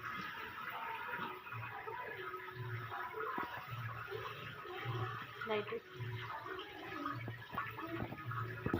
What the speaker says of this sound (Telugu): ట్యాప్ కింద పెట్టి కడుగుతున్నాం